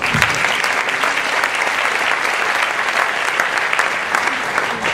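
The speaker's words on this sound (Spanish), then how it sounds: "Así que un aplauso para él." Audience applause at a Spanish-language panel on political and journalistic analysis, a dense, loud burst of clapping filling the room steadily from start to finish, with a few faint voices mixed in.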